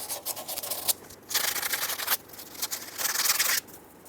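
Rust is sanded by hand from the track bar bushing bore of a 2003-2009 Dodge Ram 2500 in three or four close, scratchy back-and-forth bursts with brief pauses between them.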